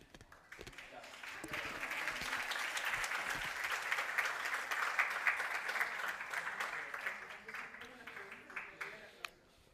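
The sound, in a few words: audience applause after keynote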